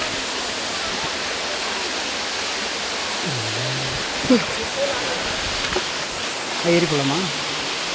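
Kiliyur waterfall at Yercaud roars as a steady, broad rush of falling water throughout, while people talk briefly nearby over it.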